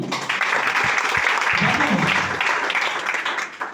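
Audience at a DXN office meeting claps together in sustained, dense applause that fills the whole stretch, with a few voices mixed in.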